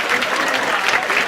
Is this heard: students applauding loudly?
yes